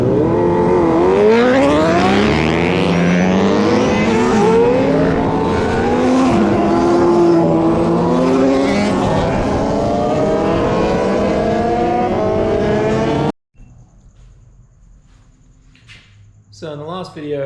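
A KTM Superduke motorcycle engine revs loudly and close, rising and falling through repeated throttle sweeps for several seconds before cutting off abruptly into near silence.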